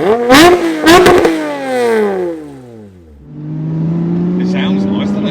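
A Toyota MR2 with a swapped 3.5-litre V6 engine revs hard twice in quick bursts, then its pitch sweeps downward and it settles into a steady drone while driving, loud and close.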